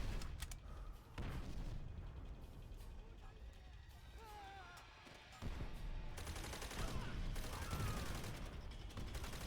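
Grenade blasts and gunfire in a wartime shooter video game, dense and continuous with repeated booms and shots throughout, heavy combat noise with someone talking over it at times.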